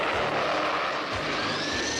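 A cartoon aircraft engine drones steadily as the plane flies on autopilot, a loud continuous roar with a faint rising whine, no voices.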